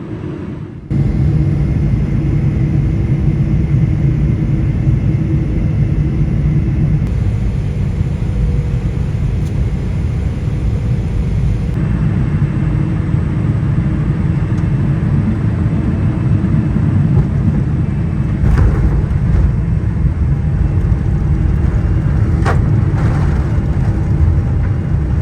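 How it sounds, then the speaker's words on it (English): A Cathay Pacific airliner on approach and landing into Narita, heard from inside the cabin as a steady, loud engine roar and rumble, with a few brief clunks and shifts in tone along the way. "So now please enjoy the approach and landing into Narita"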